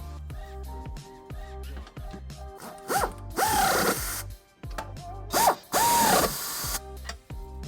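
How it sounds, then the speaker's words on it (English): A ratchet with an 11/16 socket snugs up the trailer hitch nuts on a 2013 Kia Optima, giving steady rapid clicking that breaks into two louder, longer whirring bursts, close up with no talk. "with our nuts in place and hand tight, we can snug them up using an 11/16 socket"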